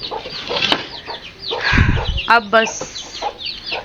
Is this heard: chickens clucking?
yes